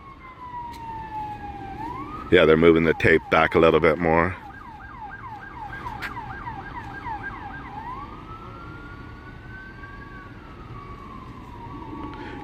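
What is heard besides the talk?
ambulance siren as the ambulance leaves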